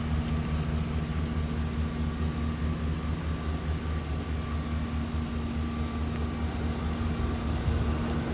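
A 2013 Chevrolet 2500HD 4x4 work truck with the 6.0 gas engine idles at a steady, unchanging low rumble, heard alone and up close without any voices.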